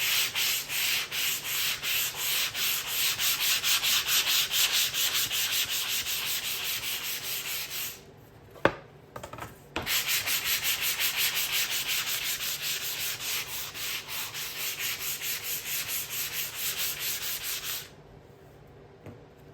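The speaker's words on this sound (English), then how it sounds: "So just go ahead and sand the board until it's extremely smooth, okay?" Steady sanding of a wooden board for a DIY seasonal sign, a loud continuous rasping rub with quick rhythmic strokes, stopping briefly near the middle with a couple of knocks before resuming, then going quiet at the end.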